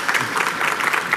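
Audience applause for a panelist at a cloud computing expo big data panel, a brief burst of steady clapping from a room crowd.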